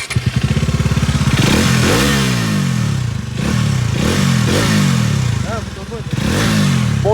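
A Bajaj Dominar 250 motorcycle engine idling and revving close by, with repeated surging pulses and some clattering from the front of the engine rather than the exhaust; no clear speech.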